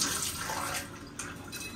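Steady broadband hiss of a hotel shower spraying and running with decent pressure, fairly close and constant, with slight shifts in intensity.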